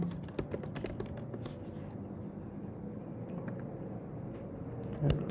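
Password being typed on a computer keyboard, a quiet run of quick, irregular key clicks over a soft background hum, with a slightly louder tap near the end.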